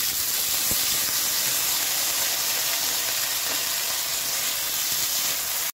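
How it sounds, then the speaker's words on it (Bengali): Vegetables frying lightly in a pan with salt and turmeric give a steady, even hiss up close that holds for several seconds before cutting off abruptly. "এখন সবজিগুলো দিয়ে নুন হলুদ দিয়ে হালকা ভাজা ভাজা করে নেব।"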